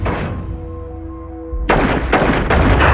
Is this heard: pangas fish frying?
no